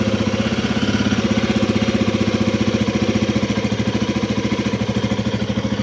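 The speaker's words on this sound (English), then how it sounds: "When I turn on the engine," A Royal Enfield Himalayan 450 motorcycle engine idles close by, a steady, loud, fast rhythmic thumping pulse with a mechanical clatter that holds evenly throughout.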